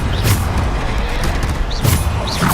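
Depulso force spell cast in Hogwarts Legacy, a short booming blast with a whooshing burst, loud and close amid ongoing combat effects.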